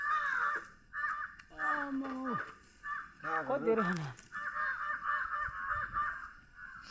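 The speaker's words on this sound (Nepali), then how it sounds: "रुखमा काग बसे हेर्नु" Crows perched in a tree in a hilly bamboo area caw repeatedly in harsh, overlapping bursts, fairly close and loud, with people talking between and over the calls.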